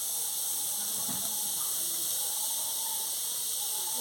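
Onions frying in hot oil in a pot on a home stove, a steady broadband hiss of sizzling that runs evenly throughout, with faint low background noise and no clear talk.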